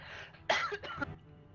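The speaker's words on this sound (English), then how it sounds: "that was actually a cough." A single person coughs: a short, quiet burst in two rough bursts close to the microphone, alone with no talking.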